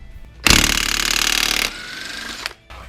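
Impact wrench on the 36 mm axle nut of a 2016–2020 Camaro SS, a loud close rattling hammer burst lasting about a second, then a lower tool whir trailing off with a short clack.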